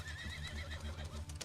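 A horse whinnies in a long, wavering neigh close by. Low rumbling noise sits underneath it, and a few clip-clop-like knocks come near the end.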